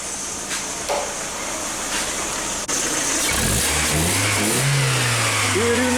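A VAZ 2110 car engine runs steadily and quietly up close, without popping or choking, and a voice joins briefly toward the end.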